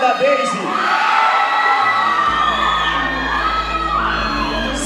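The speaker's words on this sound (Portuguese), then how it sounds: "Cadê a torcida da Jéssica? E cadê a torcida da Daisy" Crowd cheering, whooping and yelling for competitors at a state IFBB bodybuilding contest in Goiás, a loud continuous roar of many voices with an announcer's voice over it.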